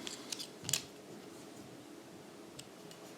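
A fresh blade slices aluminium tweeter foil laid over wood, a few short faint crisp snips and scrapes close by, with quiet gaps between them.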